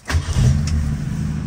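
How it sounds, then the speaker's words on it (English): An original 1968 Ford Mustang's engine cranks and fires right up, a loud close start that settles straight into a steady rumbling idle. "So the car fires, of course,"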